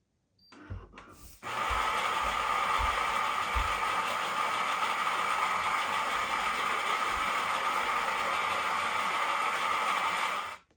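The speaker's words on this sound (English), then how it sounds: "Here you can hear the grinder without the lid." A Philips 5500 coffee machine's grinder runs with the lid off, starting after a few clicks and knocks, then a loud, steady buzzing whir that holds for about nine seconds before cutting off abruptly.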